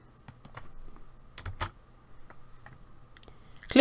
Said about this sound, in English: Press the enter key twice, and I'm going to say punch out.